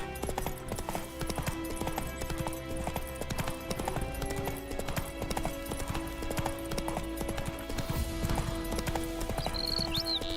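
Horse hoofbeats in The Witcher 3, a steady rapid clip-clop of a galloping mount continuing throughout under game ambience and music, with no speech.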